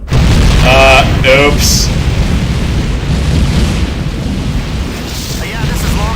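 Loud explosion aboard a starbase in Tachyon: The Fringe, a heavy booming roar that fades into a sustained rumble, with a brief spoken exclamation and electronic warning tones early on.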